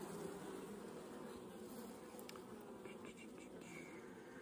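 Honeybees crawling over a hive frame, a faint, steady buzzing hum close by, with soft speech-like murmuring mixed in underneath.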